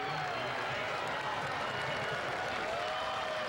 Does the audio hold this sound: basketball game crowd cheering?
yes